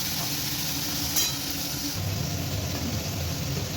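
Steady sizzling of fish frying in a pan, a soft continuous hiss with faint stirring, no voices.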